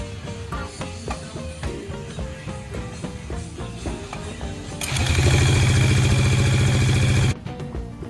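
Ford Mustang street car engine ticking over in a lumpy, uneven idle, then revving hard into a loud, sustained high-RPM roar for a couple of seconds before cutting back abruptly, close up with no speech.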